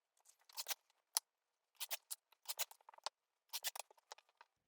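Fabric binding strips for placemats are cut, probably with a rotary cutter or scissors, making soft, quick, close slicing and crisp snipping sounds in short clusters separated by silence.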